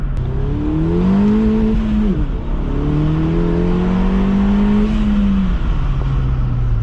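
A tuned Ford Fiesta ST with an E30 tune accelerates hard through the gears. The engine note climbs loud and close, dips briefly at a shift, then rises again in a sustained, steady pull.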